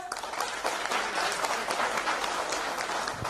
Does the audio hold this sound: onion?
no